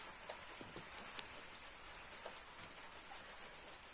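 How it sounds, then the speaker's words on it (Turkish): Steady rain falls outside a balcony, a continuous soft hiss with scattered raindrop patters and no other sounds standing out. "Bereketli bir yağmur geldi."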